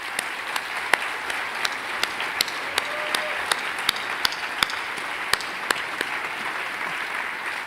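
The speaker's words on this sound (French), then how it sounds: "je vous invite à applaudir le Hérisson" An audience at a fiftieth-anniversary gathering of an environmental association applauds steadily, a dense wash of many hands clapping at a moderate distance, with a few sharper individual claps standing out and no voices.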